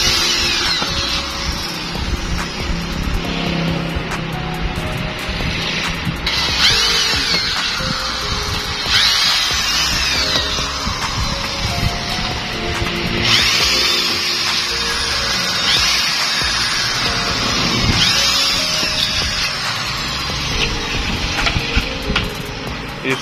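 Power drill boring holes in an 18x24 aluminum ventilator in an aluminum workshop, a continuous loud whining drone with shifting pitch and some rattling, running steadily throughout with no talk.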